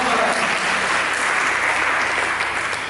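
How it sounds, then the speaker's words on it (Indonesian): Loud, dense applause fills a church service hall, a congregation clapping continuously and evenly throughout. "Berikan tepuk tangan untuk saudara-saudara"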